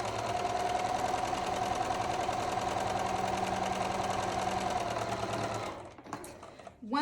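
A sewing machine stitches a quilt block in one continuous whirring run with a steady mechanical rattle, close and fairly loud, then stops near the end, leaving a few handling clicks.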